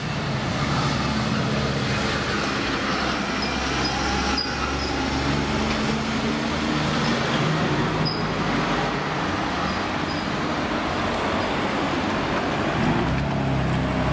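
Steady road traffic on a street in Watchet town, a continuous broadband roar of passing cars with low engine rumble, fairly close and loud throughout, with no talk.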